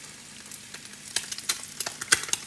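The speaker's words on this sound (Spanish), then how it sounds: "puse otra a freír para que vieran cómo" A tortilla frying in hot oil in a home kitchen, a soft steady sizzle with sharper crackling pops that come more often toward the end, close by and with no talk over it.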